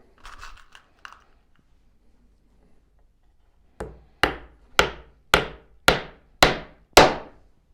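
A series of seven sharp hammer strikes on a nail, evenly spaced and growing firmer, preceded by a few softer taps, with no talking.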